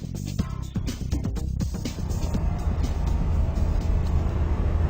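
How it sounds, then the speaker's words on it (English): The Transition flying car drives along the road with a steady, moderately loud rumbling engine and road noise, a few sharp clicks or knocks early on, and no voices. "The Transition's a really fun flying car to drive."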